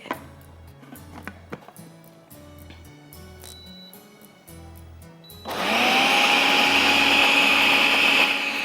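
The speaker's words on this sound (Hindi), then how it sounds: "चटनी पिस जाएगी, बिल्कुल स्मूथ हो जाएगी" A kitchen blender switches on and grinds a tamarind chutney with a loud, steady high whir that lasts several seconds, after quieter background music with a few clicks and knocks.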